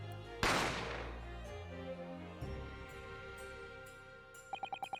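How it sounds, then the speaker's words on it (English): A single sharp gunshot from The Great Ace Attorney Chronicles cracks loudly and rings out with a long decaying tail, followed by a softer thud and a short run of rhythmic musical stabs at the end. "I didn't have time to think about where the sound of the gunshot had come from."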